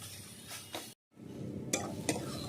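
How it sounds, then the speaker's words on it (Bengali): Prawns and kohlrabi cooked with coconut are sautéed and stirred in an open pan without a lid, with soft sizzling under a couple of brief spatula scrapes and one short silent gap. "আমি এইভাবেই এবার ঢাকনা ছাড়া দু তিন মিনিট কষিয়ে নেব ভালো করে"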